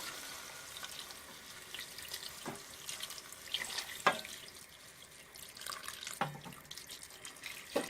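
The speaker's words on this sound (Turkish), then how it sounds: "Sıcak suyunu veriyorum." Hot water pours steadily into a pot over village chicken and sautéed potatoes, a continuous close splashing stream with a few light clinks and bumps along the way.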